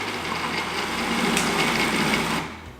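A food processor mixing a dog treat mixture, heard as a steady, close, high-pitched motor whir with a grinding churn that runs without a break and then winds down at the end.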